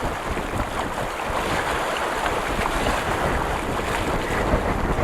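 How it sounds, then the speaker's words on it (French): Loud, constant 17-18 knot wind rushes over the microphone aboard a sailboat off Île de Ré, France, mixed with water sloshing against the hull. "Le vent s'est levé. On a un vent à 17-18 nœuds."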